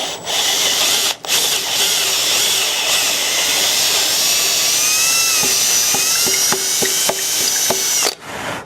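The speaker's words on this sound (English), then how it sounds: "just like that, we have the hole drilled" A drill bores a 5/16 hole for a wooden dowel, giving a loud, close, high-pitched whine that runs steadily for about seven seconds with slight shifts in pitch and brief dips, then stops.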